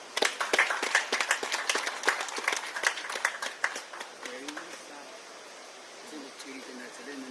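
Audience applause for a government minister at a ceremony on solar power for hospitals in Sierra Leone, a dense burst of clapping that thins out and fades after about four seconds into quiet murmuring.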